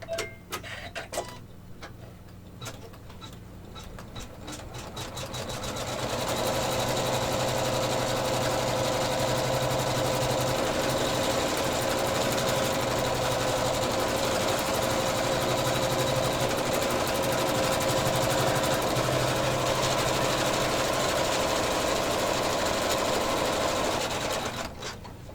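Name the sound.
embroidery machine sewing appliqué placement stitch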